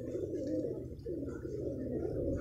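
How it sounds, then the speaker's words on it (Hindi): Fine-breed pigeons coo close by in soft, repeated throaty rolls, two or three low warbling phrases running together steadily over a faint background. "ये कबूतर हैं और बेहतरीन नस्ल के कबूतर इसमें शामिल हैं"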